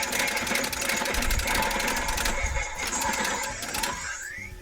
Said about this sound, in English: so it's creating the noise of the beam sword coming out of it